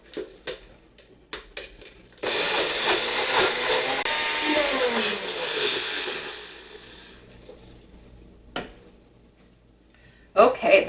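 A small blender whirs loudly and steadily for about four seconds, mixing a cottage cheese batter with oats and oil, framed by kitchen clatter and brief knocks before and after.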